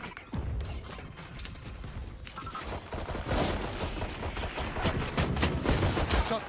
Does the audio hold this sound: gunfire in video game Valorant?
yes